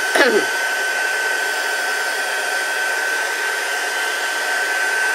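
A hair dryer drying a handmade craft butterfly piece: after a brief clatter it starts and runs as a loud, steady whine with a high whistling tone, close and alone.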